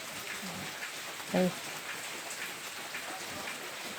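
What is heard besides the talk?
heavy rain falling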